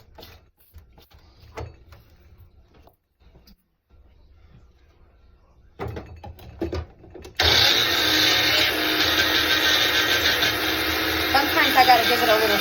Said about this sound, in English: we're going to go ahead and grind this up again